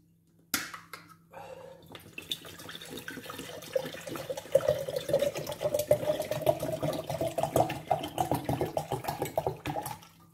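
Spring water pours into a pot in a steady, close splashing stream that begins abruptly and continues for several seconds, its pitch rising gradually as the pot fills.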